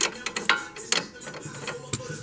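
Socket ratchet clicking while tightening a bolt on an Infiniti G37xs sedan's suspension during a lowering-spring install, irregular sharp clicks in short bursts, close and fairly loud over faint background noise.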